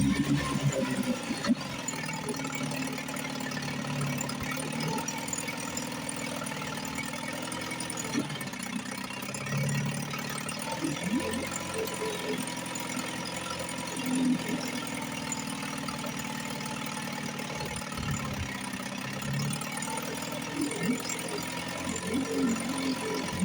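An F.M. Johnson outboard motor idles smoothly after a low-speed carburetor adjustment, a steady mid-pitched putter with a faint knocking rhythm, heard close and alone.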